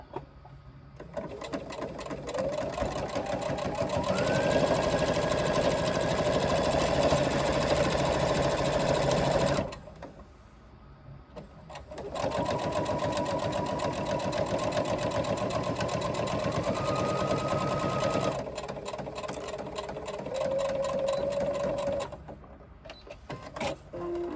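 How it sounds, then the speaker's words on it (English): A sewing machine top stitches binding in place on a crossbody bag pocket, whirring loudly and close in two long continuous runs with brief pauses between and short stitching bursts near the end. "now we are going to top stitch that binding in place"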